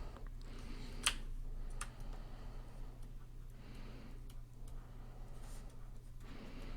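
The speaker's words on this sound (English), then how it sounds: "Let's press G on the keyboard to pull up our grab brush." Computer keyboard keys are pressed in a quiet room, with a few faint, isolated clicks spread over several seconds against a low steady hum, and no talking.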